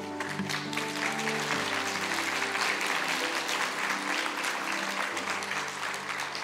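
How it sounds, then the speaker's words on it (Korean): A church congregation applauding during Sunday worship, steady clapping from many hands for several seconds with a sustained musical tone underneath, moderately distant and soft. "박수하겠습니다."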